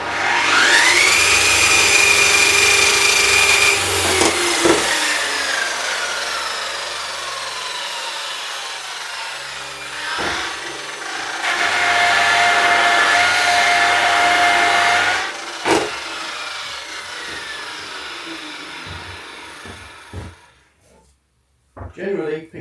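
A Makita variable speed buffer polishing aluminium with Zephyr compounds whines steadily and loudly, its pitch shifting as the speed changes, with short pauses between passes and a voice talking at points.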